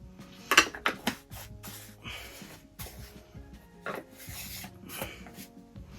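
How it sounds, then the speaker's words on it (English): A makeup brush tapped into powder and then dusted against a plastic lid to knock off the excess, giving close scraping rubs and sharp little taps in an uneven rhythm, with no voice. "I'm just going to tap in and then dust it into the lid to get any excess off"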